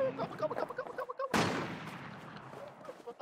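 A single sharp gunshot cracks out loud and close in the game Infestation: The New Z, its noisy blast decaying over a second, with speech murmuring before it.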